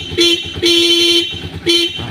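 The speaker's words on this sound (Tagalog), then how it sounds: "ayos ang busina niya" Three short honks from the horn of a 19-year-old Motorstar Explorer Z 200 motorcycle, close and loud, the middle one held longer than the others, with steady street noise underneath.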